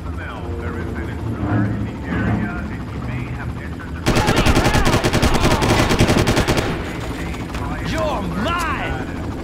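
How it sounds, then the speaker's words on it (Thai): Helicopter rotor chop joined by loud bursts of machine-gun fire in the Far Cry video game, the rapid gunfire thick in the middle stretch, with background game noise and someone talking over it. "มีคอปเตอร์มีเสียงคอปเตอร์มาผม"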